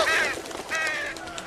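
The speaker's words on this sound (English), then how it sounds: "Freaking crow." A crow caws twice in The Walking Dead Season 2 video game, two harsh, nasal calls separated by a short pause, fairly close and clear with no talk over them.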